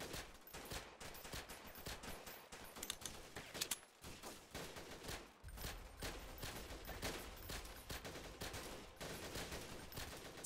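Gunfire in the Freeman: Guerrilla Warfare shooter game rings out as repeated quick shots and short bursts, steady throughout at moderate distance with no talking.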